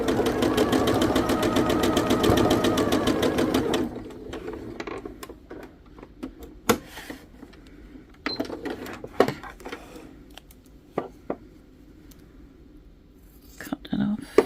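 A sewing machine stitching quilt blocks at a short stitch length, a fast, steady whirring run for about four seconds, then scattered clicks and handling noises as a person talks.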